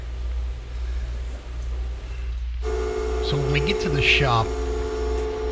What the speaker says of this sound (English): that noise you heard in the background was crypto miners, and they are loud